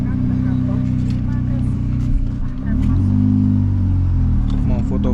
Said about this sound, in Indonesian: ini kita mau berhenti di parkiran dulu ya